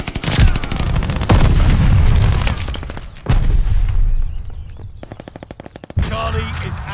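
Grenade blast and rapid machine-gun fire in a Call of Duty Vanguard multiplayer Domination match, loud bursts with sharp booms near 0.5, 3.3 and 6 seconds amid continuous battlefield noise.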